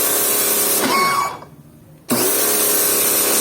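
A Kawasaki HPW-302 power pressure washer runs with a loud, steady mechanical whine and hum that cuts out briefly for about a second, then resumes at full level.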